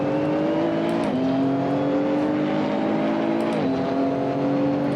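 Nissan GT-R Nismo GT3 race car engine in a racing game at Laguna Seca, a loud steady high-revving drone held throughout, with two brief dips as it shifts gear near 1 and 3.6 seconds.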